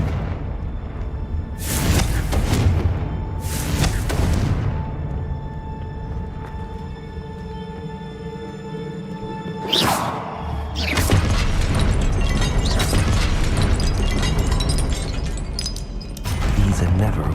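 Confringo fire spell blasts in Hogwarts Legacy: two sharp bursts early on, then a bigger crackling explosion followed by a sustained rumbling roar, all over steady game ambience with some voice mixed in.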